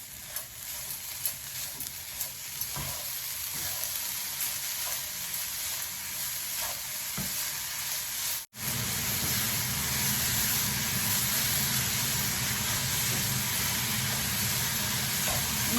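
Grated coconut cooks with date palm jaggery in a pan, giving a steady low sizzle with occasional stirring scrapes, then a brief break before louder, fuller hissing resumes.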